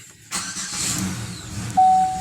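A Buick Terraza van engine cranks and catches, settling into a steady idle, followed by a sustained electronic dashboard beep near the end, with no talk.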